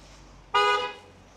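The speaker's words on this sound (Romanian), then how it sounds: "Am crezut că pe noi ne-a claxonat." A single short car horn toot sounds out on a main street in a Birmingham neighbourhood, loud and close, over faint background traffic hum.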